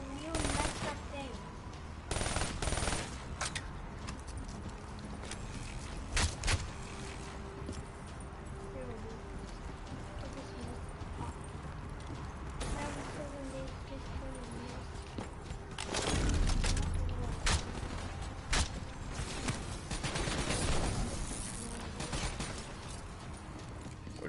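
Bursts of gunfire from a Call of Duty Black Ops 3 match: scattered shots and rapid volleys rise and fall over about twenty-four seconds, with game speech and mechanical clatter underneath.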